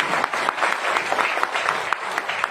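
Crowd in an indoor hall clapping steadily during a live speech, a dense, even patter of many hands close by with a few sharper individual claps standing out.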